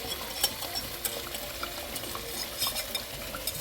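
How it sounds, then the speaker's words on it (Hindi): Whisked, slightly sour yogurt, about 200 grams, goes into fish gravy frying in ghee, giving a soft continuous sizzle with light stirring and scraping in the pot throughout. "ये 200 ग्राम के लगभग जो है फेंटा हुआ कूंडे का दही, थोड़ी खटास लिए अब ये जा रहा है"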